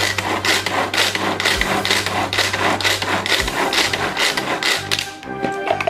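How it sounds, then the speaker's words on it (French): Pumpkin soup with milk and cream stirred in steady, rhythmic strokes, each a close, loud scraping swish over a low continuous hum, with no talk. "Je tourne, bien mélanger."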